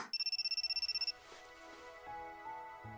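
A phone in the visual novel Kinkoi: Golden Time rings with a fast run of about a dozen bright, evenly spaced electronic trills lasting about a second, then gives way to soft background music.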